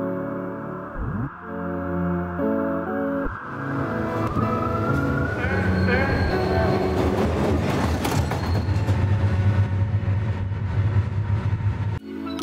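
The Glacier Express train runs on the rails in the Swiss mountains as another train passes; a loud, continuous rolling rumble with a rising whine and horn-like tones builds and stays close throughout, without speech.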